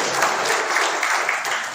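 A crowd at a business motivational event applauds loudly, a dense continuous clatter of many hands clapping throughout.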